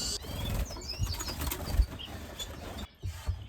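Redpoll finches flap their wings in a cage as they are caught for moving into flights, with bursts of rapid fluttering and a few thin chirps close by, a brief pause near the end.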